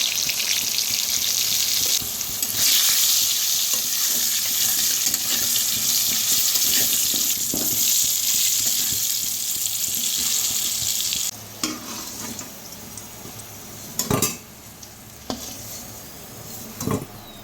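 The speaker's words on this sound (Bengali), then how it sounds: "এবার কড়াইতে তেল দিয়ে তেল গরম হয়ে এলে আলু ছেড়ে দিয়ে তাতে নুন," Potato pieces frying in hot oil in a wok, seasoned with salt and turmeric, crackle in a loud continuous sizzle, then the frying quiets and a few sharp clanks of stirring break in, with no talking.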